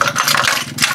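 A Rusi Chariot 175 trike engine with a carburetor catches on one click and settles into a loud, close, rattly mid-pitched idle with uneven pulsing over a short stretch.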